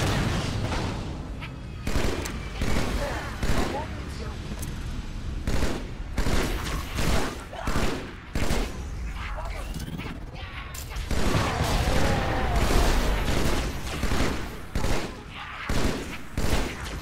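Repeated gunfire from a weapon in Halo: Spartan Strike, loud bursts and single shots in an uneven rhythm throughout, mixed with booms and game effects.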